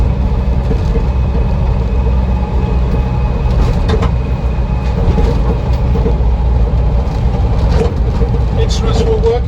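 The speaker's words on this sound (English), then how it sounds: "that heavy clunking you can hear is the crane gear moving about" Heavy crane gear hung on chains clunks and knocks in the back of a 1976 Land Rover Series III 109 pickup, irregular metallic thuds over a steady loud engine and road rumble while driving.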